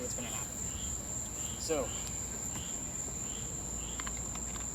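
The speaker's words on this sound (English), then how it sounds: "We got tree frogs and cicadas going on now." Night insects and frogs, cicadas and tree frogs, keep up a steady high-pitched drone with scattered chirps, while a person's voice briefly speaks over them.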